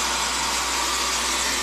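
Hot air streams from a home hair dryer set to medium during a haircut for long wavy hair, an unbroken, loud, close rushing hiss.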